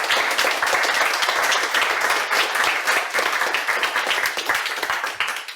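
Dense, steady applause from an audience at a beer society AGM, many hands clapping quickly and loudly throughout, fading slightly toward the end.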